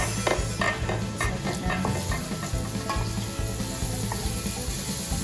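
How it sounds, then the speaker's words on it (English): Onions sizzling and frying in rendered bacon fat in a pan, a steady close crackle with repeated stirring scrapes and no talking. "we've let the bacon go for just a little bit. Build up some nice oil there. And now we're gonna add in the onions."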